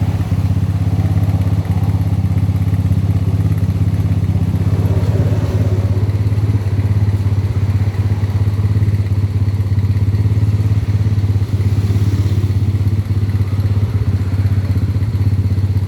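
A RUSI Swish motorcycle engine with a noisy fault runs close and loud, a steady low idling drone with faint clattering and ticking layered over it for the whole stretch.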